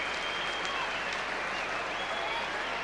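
A rugby league stadium crowd at Central Park, Wigan, applauds Shaun Edwards in a steady, dense wash of clapping that stays even and fairly distant, with no break throughout.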